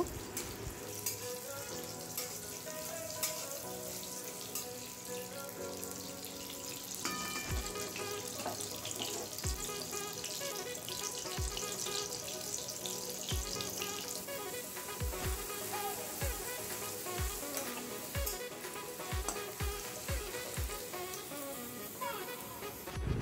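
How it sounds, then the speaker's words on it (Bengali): Pieces of bitter gourd fry in hot oil for a Bengali shukto, a continuous bubbling sizzle under a string of sharp knocks and clinks, with a soft tonal hum in the background, fairly quiet overall. "এবার তেলের মধ্যে উচ্ছেগুলো দিয়ে ভেজে নেব"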